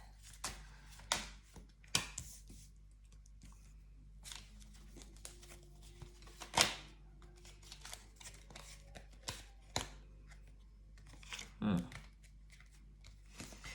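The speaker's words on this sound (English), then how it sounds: "Keep on shuffling." A tarot deck is shuffled by hand in short, papery bursts of riffling and sliding cards, close and fairly quiet, with scattered crisp snaps and pauses between handfuls.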